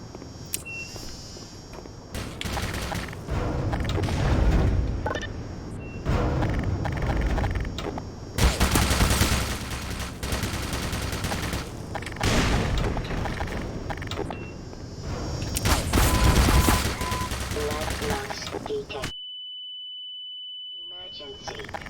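Rapid gunfire from soldiers and automated turrets in the video game Black Mesa, dense bursts repeating across the scene, loud and close, with a steady electronic tone sounding near the end.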